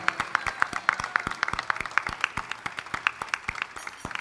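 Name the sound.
applause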